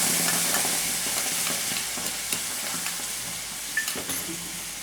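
Spices tempering in hot oil in a pan for a potato and pumpkin curry, with asafoetida, a bay leaf and dried chilli, give a steady close hiss and sizzle with occasional stirring scrapes, no voices.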